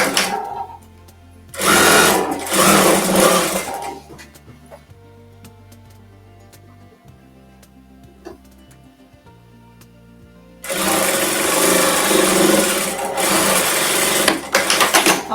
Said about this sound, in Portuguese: E agora a gente vai passar uma costurinha, tá?